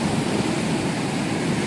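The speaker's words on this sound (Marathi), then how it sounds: "गणपतीपुळेचं मंदिर आणि लाटा बघा," Surf crashes near the Ganpatipule temple on the Konkan coast under a rough monsoon sea, a steady loud roar of breaking water without pauses or talk.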